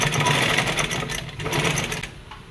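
A sewing machine fitted with a piping presser foot stitches piping onto fabric. A close, rapid mechanical whirr runs continuously, then tapers off near the end.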